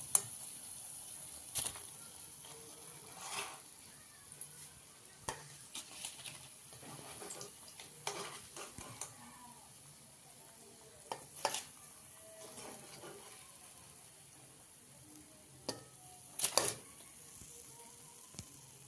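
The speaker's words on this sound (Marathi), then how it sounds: "अशा प्रकारे मी सर्व वडे तळून घेते" Vadas for katwada deep-frying in hot oil, a soft steady sizzle with scattered pops and occasional utensil clinks, fairly faint and without talk.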